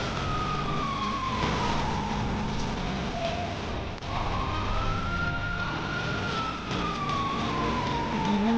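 Wailing emergency vehicle sirens sweep up and down continuously in a roleplay video game, loud and steady over a dense rumble of traffic and engine noise, with no voices.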